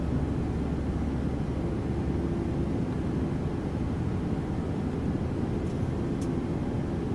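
Steady broadband engine and airflow drone of a Boeing 737-700 climbing toward flight level 280 in the X-Plane 12 flight simulator, a constant, even roar with no talk.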